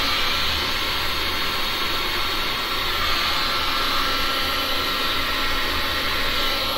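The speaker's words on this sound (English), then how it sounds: "so I'm going to let the heat gun do that." A heat gun blows steadily over resin, producing a loud, constant airy whoosh like a hair dryer, close up and unbroken, with no voices.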